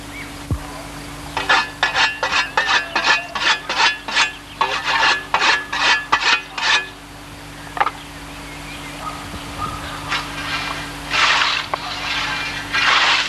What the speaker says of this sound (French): le glissement de la faux le long des herbes hautes